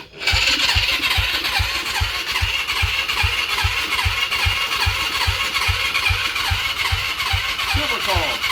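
A cold Yamaha YFZ450 ATV engine catches and runs loudly up close, its single-cylinder idle thumping in a rapid, fairly rough beat.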